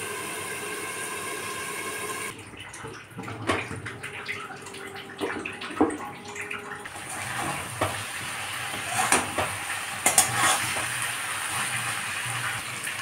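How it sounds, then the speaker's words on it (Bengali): Shredded cabbage with dried chilli and garlic paste cooks in a covered pan over a medium gas flame, giving a soft, steady sizzle with occasional brief clatters and bubbling. "এবার ঢেকে রান্না করে নেব কিছুক্ষণ মিডিয়াম আঁচে।"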